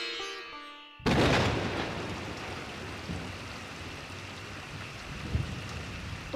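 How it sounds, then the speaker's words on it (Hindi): Steady rain pours down after a brief musical opening, a dense wash of hiss with a low rumble and a dull thump near the end. "ओह, ये बारिश।"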